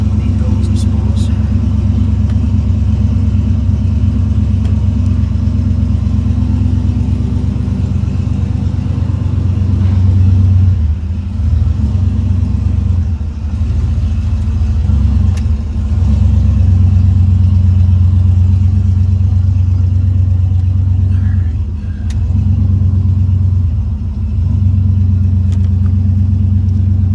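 A turbocharged LS 5.3 V8 in a C10 pickup truck runs loud and close. It holds a deep steady idle rumble with a few brief dips and blips in engine tone.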